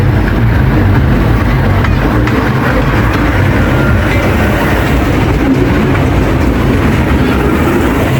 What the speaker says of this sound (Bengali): বাচ্চাদের ট্রেন স্টেশনটা ঘুরে আসি